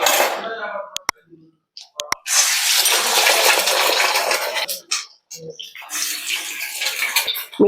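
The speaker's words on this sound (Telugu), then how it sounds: "ఎగ్స్ ముందుగా ఇలా కొట్టి పోసుకోవాలండి" Eggs are beaten in a bowl and poured into a pan for street-style egg noodles, with sharp clinks against the bowl, followed by a loud, close splashing pour and clatter.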